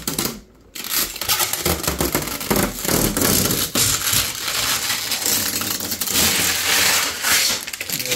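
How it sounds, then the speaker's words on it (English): Protective plastic film being peeled off a white Thermalright Peerless Assassin 120 CPU cooler with RGB, a loud, continuous crinkling and tearing rustle that runs steadily for several seconds after a brief pause at the start. "we're just gonna pull this plastic off"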